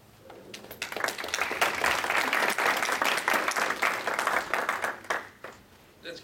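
A crowd bursts into sustained applause, many hands clapping densely for several seconds before tapering off to a few scattered claps.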